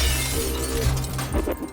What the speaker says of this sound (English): hearing a crash of glass from above